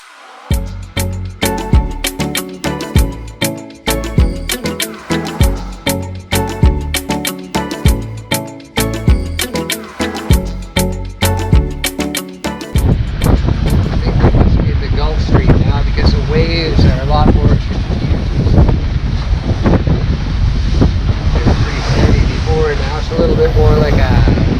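A sailboat motors through rough seas in strong wind. Rhythmic pulsing comes first, then a dense, loud roar of wind buffeting the microphone over rushing water, with voices faintly mixed in.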